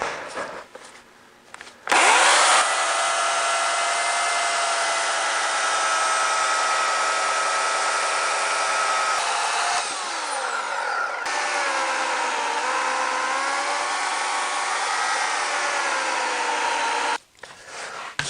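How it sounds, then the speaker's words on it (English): A bandsaw cuts through a wood bowl blank with a loud, steady whine that runs almost unbroken and shifts pitch partway through the cut. It starts and stops abruptly, with no talk. "to put it on the bandsaw so that it'll be stable while I'm cutting it"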